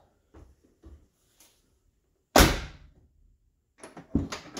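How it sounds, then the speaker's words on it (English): A 1970s Ford car door opens and closes after its striker bolt is replaced and lubricated: light clicks and handle sounds lead up to one loud solid slam, followed by further latch knocks, with no talking. "let's see how this door opens and closes"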